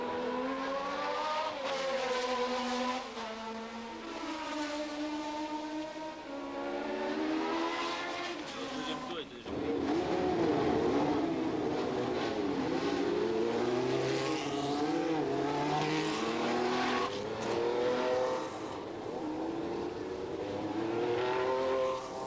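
Formula 1 race cars from 1976 race at the Mosport circuit, engines screaming and rising in pitch as they pass one after another, a long roar of revving and gear changes with no talk over it.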